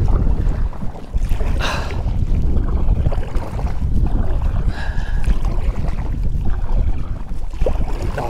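Wind buffets the microphone during kayak fishing on a Jackson Kayak Big Tuna, a loud continuous rumbling gust noise with faint water sounds beneath, no talk.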